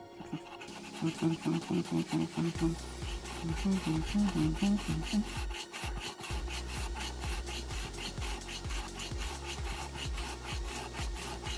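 A hand saw rasps through wood in quick, even back-and-forth strokes while cutting a bowling sliding sole, close and steady, with a low hum beneath.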